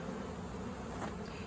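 A honey bee swarm is eased into a cathedral hive full of honey, and the bees keep up a faint, steady, dense buzzing hum.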